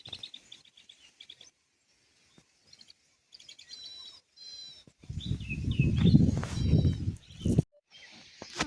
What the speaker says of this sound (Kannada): ಬರ್ಡ್ ಸೌಂಡ್ ಆಗ್ತಾಯಿದೆ, ಇದನ್ನು ಕೇಳಿಸ್ಕೊಳ್ಳೋಣ